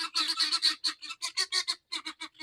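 Guinea fowl honk loudly and close by in a rapid, harsh, rhythmic series of repeated chattering calls, with only brief gaps between bursts.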